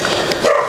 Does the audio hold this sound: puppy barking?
yes